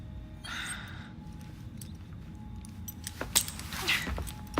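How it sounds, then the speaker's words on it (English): Keys jangle as they are handed over in a cutscene of Assassin's Creed Syndicate, a few faint metallic rattles and clinks toward the end over a low background hum. "Now hand over your keys."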